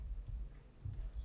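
Keys tapped on a computer keyboard during coding work, a few soft clustered clicks in quick bursts with brief pauses, quiet and close with no talking.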